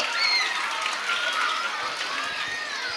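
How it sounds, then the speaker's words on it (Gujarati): An audience at a school annual function applauding a dance performance, a dense, even wash of clapping from many hands that holds steady for a few seconds, with no clear voices over it. "એક જોરદાર તાળીઓ બની જાય આ સુંદર ડાન્સ માટે"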